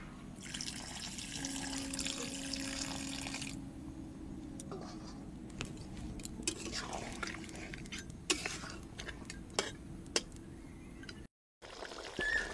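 Water poured into a pot of duck curry during home cooking, a broad splashing and running wash in the first few seconds, followed by quieter kitchen clatter and handling sounds.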